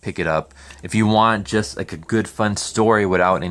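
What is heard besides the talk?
None of the usual background noises is heard.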